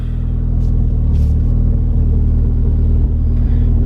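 A Mitsubishi Lancer Evolution X idles with a deep, steady engine rumble, loud and close, holding an even drone with slight fluctuations and no voices.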